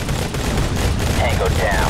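Bursts of rapid gunfire in the first-person shooter Modern Combat 3: Fallen Nation, loud and dense over a rumbling game soundtrack, with game voice chatter mixed in.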